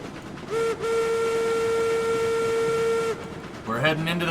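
A steam locomotive in RAILROADS Online blows a long, steady whistle of about two and a half seconds over a rumbling running bed, followed by a short burst of chuffing.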